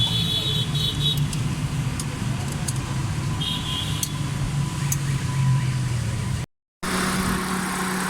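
A Hyundai Santro car engine idles steadily after tappet adjustment and tuning, a close, even mechanical hum with light ticking, briefly cut out near the end.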